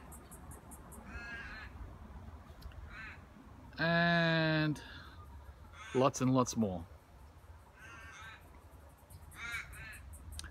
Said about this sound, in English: And of course, don't forget the crows.